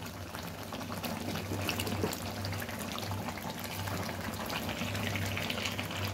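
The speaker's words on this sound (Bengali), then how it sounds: "এখন আলু দিব, আলু দিয়ে একটু ফুটিয়ে নামিয়ে নিব।" Pre-fried potatoes dropped into a pot of simmering mutton curry, then a continuous bubbling, sizzling wash of liquid heard up close with a low hum behind it.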